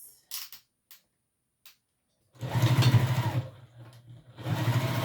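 A sewing machine runs a seam with a small stitch length, with a low steady motor hum and rapid needle chatter in two close bursts, preceded by a few light handling clicks in near silence.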